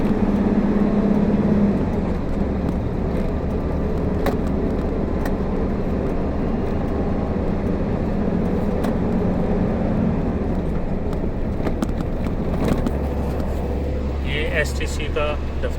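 A concrete mixer truck drives along the Miqat–Taif highway with a continuous low engine drone and road rumble throughout, a voice faintly present beneath it.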